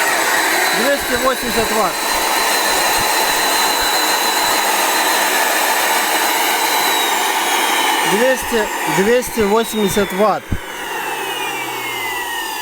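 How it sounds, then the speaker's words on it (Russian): A vacuum cleaner motor runs on interrupted-frequency power, giving a loud, steady high whine up close, with short bursts of speech over it early and near the end before the motor winds down. "Но шурует он примерно как двигатель, который просто в розетку включен и работает."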